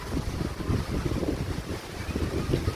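Strong wind of a kalbaisakhi storm roars in steady, gusting waves, a dense continuous rush with no voices.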